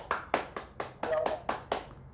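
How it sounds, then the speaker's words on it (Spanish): A short burst of applause for a podcast guest, a jarocho show dancer, being introduced: about eight distinct clap-like hits spaced roughly a quarter second apart, fairly close and moderately loud, with no talk over them. "Aplausos."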